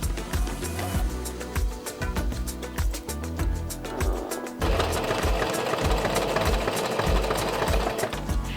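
Sewing machine stitching a kimono, close and loud, with rapid mechanical chatter in short bursts and brief pauses at first, then one longer continuous run.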